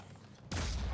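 A single sharp gunshot fires midway through, from an enemy sniper in the turn-based strategy game Phoenix Point, a sudden loud crack after quiet low background sound.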